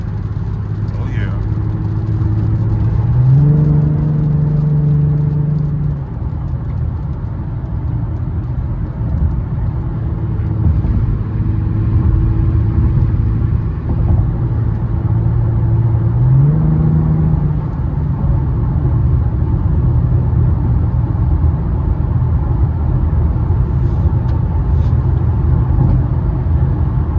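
An Infiniti Q50 cruises along the road with a steady, loud engine and road rumble, its revs rising in a couple of brief swells, while people talk over the drive.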